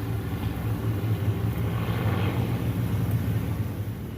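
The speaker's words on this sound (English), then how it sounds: "the air show is flying right on over my house. P-51 Mustangs and a B-29." P-51 Mustang fighters and a B-29 bomber passing over a house during an air show, heard as a steady, broad engine drone and rumble that holds throughout at moderate distance, with no talk.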